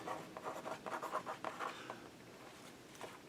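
Pen scratching across a paper folio tab in a craft project, a close, quiet run of short strokes in the first half that trails off into faint scratches.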